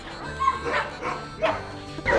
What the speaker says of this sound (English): There's like 20 dogs.